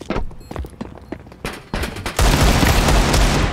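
Rapid gunfire from the video game Counter-Strike 2: scattered sharp shots and short bursts give way to a sustained, loud barrage of automatic fire with booming impacts, heard without talk.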